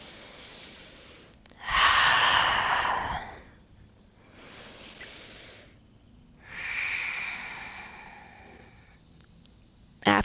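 Slow, deep breathing during a yoga session at a vineyard: three long airy breaths, close and soft, separated by quiet pauses, with no talk.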